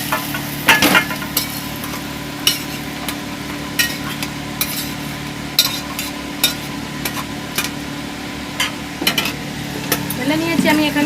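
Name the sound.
fried vegetables poured into pan, sizzling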